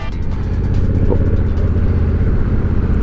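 A motorcycle engine drones steadily at close range throughout while riding on the road toward a gas station, a constant loud low rumble with wind noise and no clear gear changes.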